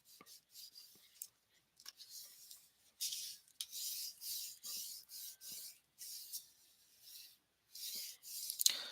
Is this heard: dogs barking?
no